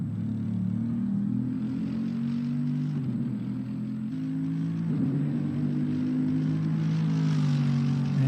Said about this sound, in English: just banging through that 6-speed ZF gearbox. 600 horsepower